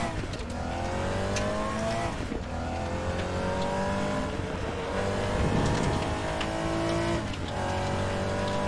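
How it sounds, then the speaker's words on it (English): A race car's engine in the RaceRoom racing sim drones and shifts pitch steadily, with a rapid, rasping ABS ripping buzz during braking running under it, fairly loud and continuous. "You can hear the ABS."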